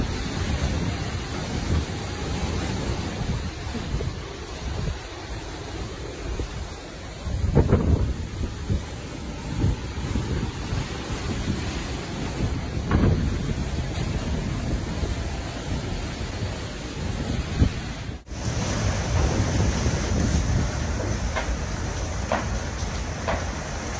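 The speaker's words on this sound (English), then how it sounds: "This is what it's like being on a cruise ship during a storm." A storm on a cruise ship rumbles and roars with a continuous wind-and-water wash, heavy low thuds that may be waves striking the hull, and a sudden sharp break near the end followed by brighter rushing noise.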